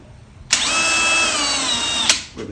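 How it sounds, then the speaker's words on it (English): Handheld power drill boring into wood, a loud, close motor whine that starts abruptly, holds steady for about a second and a half, then cuts off and winds down. "you're going to drill straight down on this side because you don't want the drill bit to hit this"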